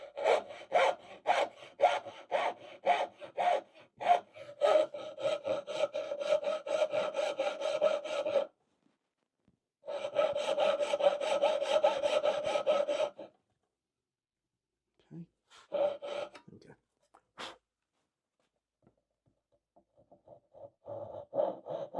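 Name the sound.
hand saw cutting dovetails in wood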